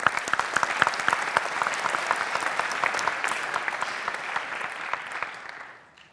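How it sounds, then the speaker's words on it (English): Symposium audience gives sustained, fairly dense applause with a few sharper individual claps, fading out at the end. "So give a big applause for Thomas Ripplinger."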